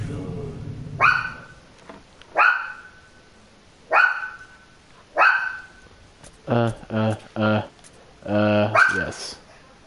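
Dogs from the Resident Evil video game bark repeatedly, several sharp separate barks spaced a second or so apart, then a quicker cluster of yips and barks near the end, loud and close.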